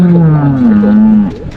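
A cow gives one long, low moo lasting over a second, close and loud, tapering off at the end.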